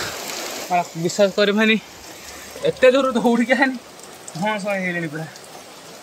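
Heavy rain falls steadily as a constant broadband hiss, with a voice speaking in Hindi-like Odia over it in several bursts.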